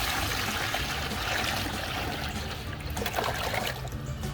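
One and a half gallons of water pours steadily into a container, a continuous close splashing trickle that barely changes over its length.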